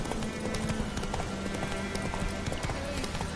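A horse gallops in the video game Witcher 3: Wild Hunt, with fast rhythmic hoofbeats close and continuous over game ambience and a voice.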